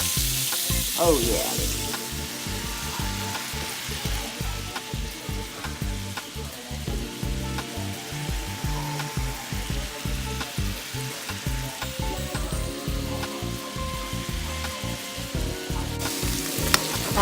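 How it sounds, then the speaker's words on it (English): Shrimp sizzling in a frying pan for shrimp and grits, a loud steady close sizzle with rhythmic pulsing crackle, and a brief spoken exclamation near the start. "the shrimp are sizzling along, and they are going to cook all total about 3 to 4 minutes"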